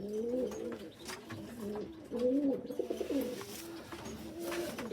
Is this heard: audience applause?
no